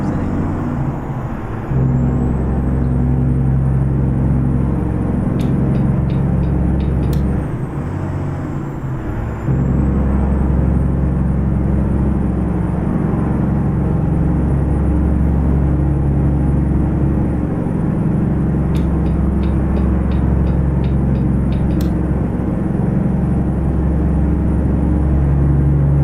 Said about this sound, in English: I know this truck is loud.